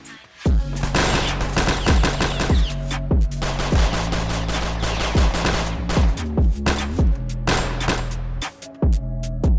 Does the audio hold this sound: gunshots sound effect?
yes